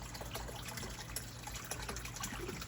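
Water trickles steadily into the reservoir of a potted pothos in a carnivorous plant grow tent, a quiet continuous dribble over a low constant hum.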